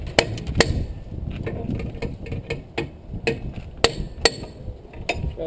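A hammer strikes a seized brake drum over and over, sharp metallic impacts at an uneven pace, some close and loud, against a low background rumble.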